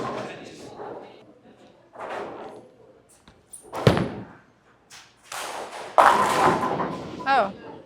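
A DV8 Intense Collision bowling ball rolls down a lane on a transition house shot and strikes the pins, a sharp thud near the middle followed by a loud crash and clatter, with voices talking around it.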